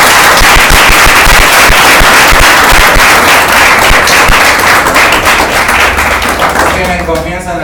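A church congregation claps for the Lord in loud, fast, dense unison, with crackling rapid hand claps that fill the room and fade near the end as a voice begins.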